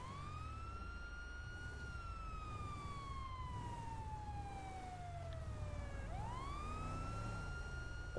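A police siren on a car roof in GTA 5 Online wails in one long slow downward sweep, then jumps back up, at steady moderate volume over a low engine rumble.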